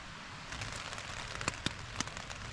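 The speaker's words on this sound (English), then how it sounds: "Raining." Light rain shower at a remote camp, a steady soft patter on surfaces with a few sharper drops landing close by, no voices.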